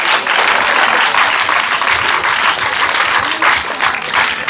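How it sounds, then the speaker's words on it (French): A large crowd at a Côte d'Ivoire drinking-water event claps and cheers steadily, dense loud applause running unbroken throughout with no voices over it. "Je veux qu'on les acclame d'abord."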